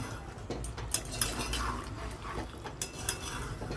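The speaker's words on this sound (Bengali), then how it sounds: "সুন্দর করে একটু নেড়ে চেড়ে দেব" A spoon stirs curry with garam masala in a metal pot, producing a few light clinks and scraping knocks against the sides, close-up and fairly quiet.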